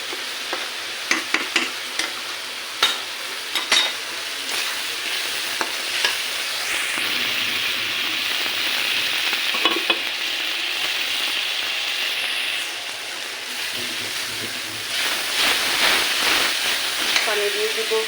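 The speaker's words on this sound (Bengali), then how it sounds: "মশলাটা ভালো করে কষিয়ে নিই" Masala spice paste sizzles steadily in a hot pan while a spoon scrapes and stirs it in bursts of clatter. The frying hiss swells at times, and a voice speaks faintly in the background.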